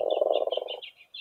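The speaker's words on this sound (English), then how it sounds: "That was a frog." A single frog at a pond gives one close, clear pulsing croak lasting under a second, followed by a higher trilling call and then quiet.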